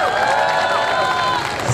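A large audience at a college convocation ceremony claps loudly, a dense, steady wash of applause with faint cheering throughout.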